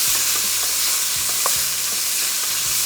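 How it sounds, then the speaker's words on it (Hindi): Chicken frying in oil over high heat, a steady bright sizzle that holds loud and constant, with a few soft stirring scrapes and clinks underneath and no talk. "और चिकन को थोड़ा सा फ्राई करेंगे तेज़ आंच पे।"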